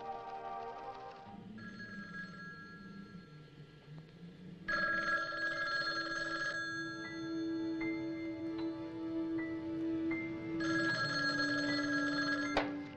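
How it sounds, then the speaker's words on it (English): A telephone bell rings in repeated bursts, the ringing faint and somewhat distant over a low background, with several rings spread across the stretch. "How about that telephone up at the Butler house? Is it working?"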